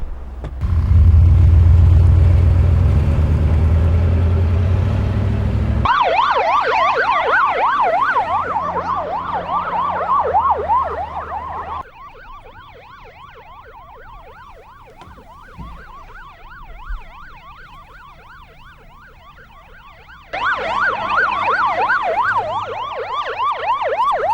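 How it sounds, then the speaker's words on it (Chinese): A police car siren wails, sweeping up and down continuously, loud and close, fading slightly midway before surging back, with a low engine rumble early on. "龙叔啊，这警笛声对于我来说就是美妙的音乐啊！"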